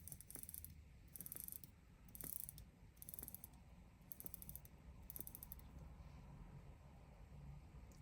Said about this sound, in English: now you can actually wind the watch. You can also hear it winding